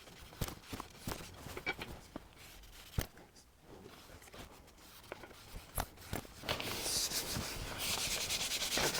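A shellac finish on a wooden table is rubbed down by hand, making soft, steady scratchy strokes with occasional taps, close and fairly quiet, turning to a denser continuous rubbing near the end.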